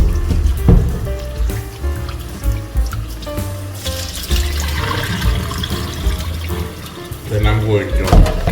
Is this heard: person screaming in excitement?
no